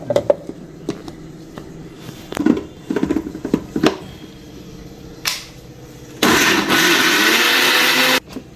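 Mixer grinder whirring coconut and poppy seeds into paste, a loud steady motor roar lasting about two seconds near the end, preceded by scattered clicks and knocks of handling the jar; no talk.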